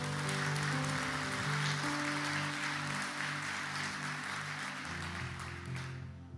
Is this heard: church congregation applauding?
yes